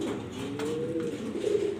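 Jharna shirting pigeons coo close by, a steady low throaty cooing that carries through the brief moment without pause, with no voices over it.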